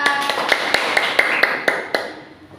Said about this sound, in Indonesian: tepuk tangan untuk Mbak Salsa